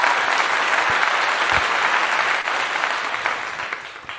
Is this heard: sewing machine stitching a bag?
no